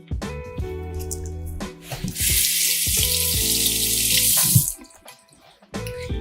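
Fresh garden mint rinsed under a running kitchen tap: a steady, close rush of water lasts a couple of seconds, with background music and a few clatters around it.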